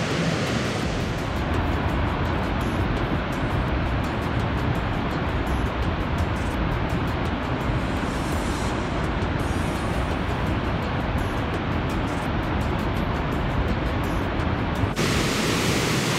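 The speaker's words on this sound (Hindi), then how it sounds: "जो आवाज़ आ रही है वाटरफॉल की, पानी की" Steady, dense roar of Niagara Falls pouring water at night during a festival of lights, a broad continuous rush with no break, loud and close, no voices.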